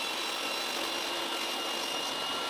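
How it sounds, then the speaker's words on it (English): A table saw cuts through wood while building a crosscut sled, a steady dense whine of the blade in the board running unbroken and loud at close range for the whole moment. "I place the sled on the saw table and make a cut that ends about 15 centimeters from the back of the sled"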